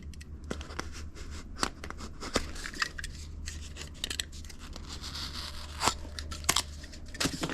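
A foam extension piece for a Midea U-shaped window air conditioner is cut, giving a quick series of crisp, close snips and crunches at an irregular pace over faint room noise.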